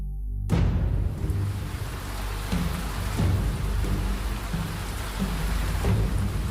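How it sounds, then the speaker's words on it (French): Heavy rain pours down steadily as rolling thunder rumbles and cracks, loud and close, starting suddenly. "Il pleut."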